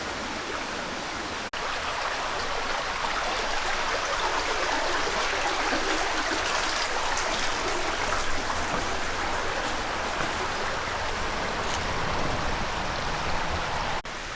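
A river rushes beneath an old stone bridge, a dense continuous broadband roar of flowing water, close and steady for the whole stretch.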